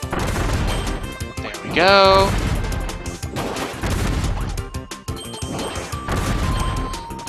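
Bombs exploding in the video game Return To Dreamland, a run of sharp crashing bursts over busy game music and sound effects, with someone talking over them.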